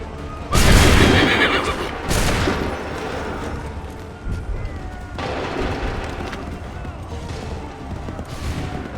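Musket volley in the Assassin's Creed 3 game: two loud broadband blasts in quick succession, then scattered crackling shots and lingering rumble, with a horse whinnying amid the battle noise.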